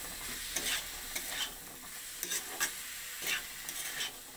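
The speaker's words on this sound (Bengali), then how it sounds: "এরপর দিয়ে দেবো সেদ্ধ করে রাখা ছোলাটা দিয়ে সমস্ত কিছুর সঙ্গে একসঙ্গে মিশিয়ে নেব" Boiled chickpeas being stirred into spices in a pan for ghugni, a steady scraping stir with soft sizzling and several louder spoon strokes, close and alone.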